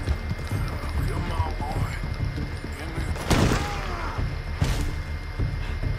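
A horse's hooves clip-clop steadily during a ride in Red Dead Redemption 2, with a couple of dull booms in the game sound and a voice talking over it.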